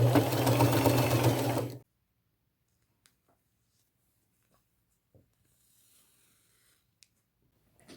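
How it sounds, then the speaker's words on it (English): A sewing machine stitching an appliqué onto a chenille jacket, running in a fast, steady whir for under two seconds before stopping, followed by near silence with a few faint clicks. "I'm going to just sew straight across from this end of the leaf through the flower"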